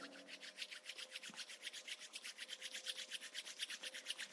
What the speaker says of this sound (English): Now from here, rub your palms together.